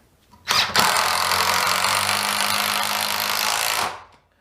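A DeWalt DCF815 impact driver drives a screw in one continuous loud burst of about three seconds, starting abruptly and cutting off cleanly, with a steady mechanical whir and no talk over it.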